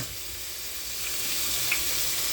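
Meat sautés in a hot pan for a Filipino monggo, jackfruit and pork hock dish, a steady close sizzle with a faint bubbling hiss that swells slightly and shows one brief tick partway through.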